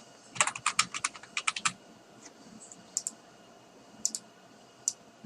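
Typing on a computer keyboard, a quick burst of close key clicks followed by a few scattered single taps, with no voices.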